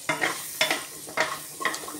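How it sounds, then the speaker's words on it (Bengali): Diced carrot and potato stir-fried in a pan, with four distinct bursts of sizzling and scraping at roughly half-second intervals, close and fairly loud, with no talking. "গাজর আর আলুটা দিয়ে একটু ভাজা করে নেব।"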